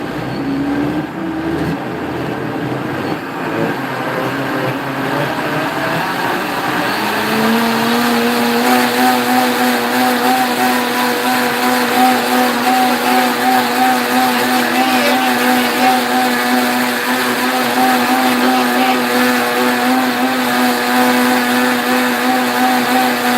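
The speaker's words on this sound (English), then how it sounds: "So this is a 10-speed blender." A 10-speed blender whirs through a smoothie, its motor pitch climbing in steps as the speed rises, then settling into a loud, steady high whine with grinding texture; no voices.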